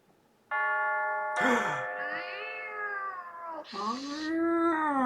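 A front-door doorbell rings with a sustained electronic chime tone that shifts pitch in a couple of stages, loud and close, after a brief quiet start, with a high cat-like wavering quality.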